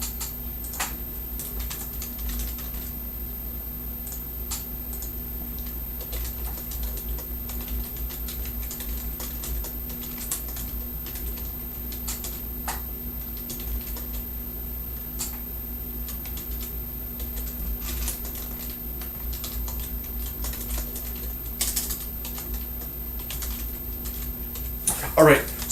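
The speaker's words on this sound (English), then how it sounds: "sorry, I'm just typing a response." Someone types on a computer keyboard during an online chemistry lecture: sparse, faint key clicks over a steady low hum in a quiet room.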